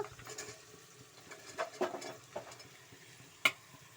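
Moong dal and chopped bottle gourd stirred in a pan for a gravy, with faint sizzling and soft scraping stirs, a few louder clinks of the spoon against the pan, no talking.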